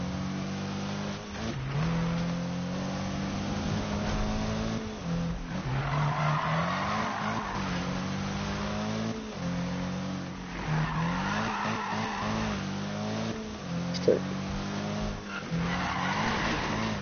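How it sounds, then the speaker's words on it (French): In the Need for Speed racing game, a car drifts with its engine droning steadily while tires skid and squeal in repeated long sweeps, loud and close, with a brief sharp knock near the end. "Oh, la belle drift."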